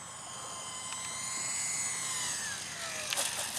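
An E-Flite Aero Commander RC airplane on low throttle, its faint motor whine sliding in pitch as it glides past at a distance under steady outdoor background noise.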